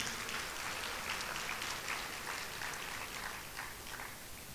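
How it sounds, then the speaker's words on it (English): A conference audience at the Malaysian Media Conference gives a round of applause, a faint, distant, steady patter of many hands clapping that tapers slightly near the end. "I think another round of applause for Dean"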